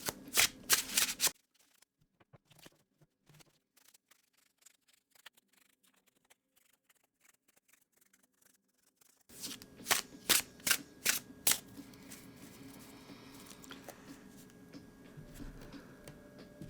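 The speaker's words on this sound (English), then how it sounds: "I'm going to go ahead and give the deck a really good shuffle for you." Tarot deck shuffled by hand in bursts of crisp riffling card flicks, loud at the start, quiet during a soft middle stretch, then a dense run of sharp card slaps and riffles near the microphone, with no talking.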